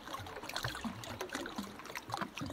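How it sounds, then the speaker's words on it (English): Water trickles and burbles softly at a low level in a short recording, with uneven little gurgles and splashes and no voices. "also sent me the sound of water"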